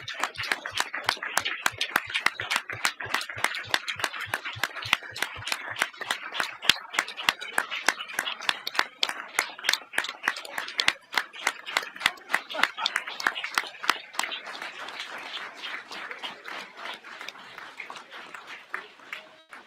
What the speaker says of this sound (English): that's all right if you want to clap for yourself